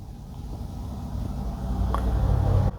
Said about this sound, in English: can you hear that? There's cars.